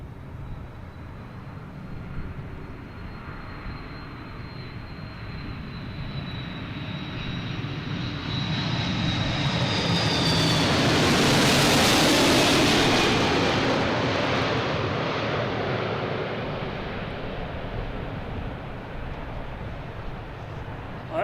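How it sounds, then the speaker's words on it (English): An Aer Lingus airliner in all-green livery comes in to land at Boston Logan, its engine roar swelling steadily to a loud peak as it passes close overhead and then fading away into a distant rumble. "That's the all green Aer Lingus."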